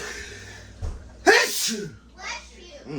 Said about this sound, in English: You almost walked into that sneeze.